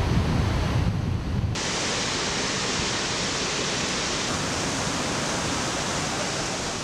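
Loud, steady roar of rushing water from a waterfall, filling the whole clip as a dense wash of noise, with a deeper rumble in the first second and a half.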